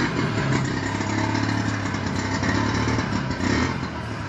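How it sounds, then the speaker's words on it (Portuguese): Lambretta scooter engine running steadily close by as it passes along a roadside, a sustained mid-pitched motor drone with slight rattle, used as a radio drama sound effect. "Foi uma lambreta. Engana a gente essas lambretas, só."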